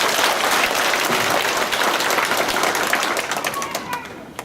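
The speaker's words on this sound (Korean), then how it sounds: "그 은혜를 주신 하나님께 박수 한번 하세요." A church congregation at a Christmas service applauds together in a sustained burst of clapping that fills the room, gradually thinning toward the end.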